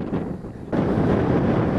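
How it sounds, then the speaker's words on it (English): Strong wind roars steadily and close to the microphone in Australia, growing noticeably louder and fuller partway through. "still very windy."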